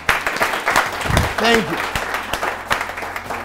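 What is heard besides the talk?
audience applauding a speaker's introduction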